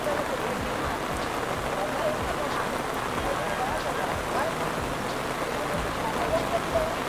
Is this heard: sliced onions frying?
no